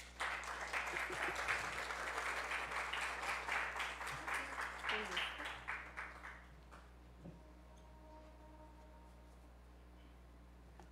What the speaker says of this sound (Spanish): Recibamos con un fuerte aplauso a Luisa Ortiz Pérez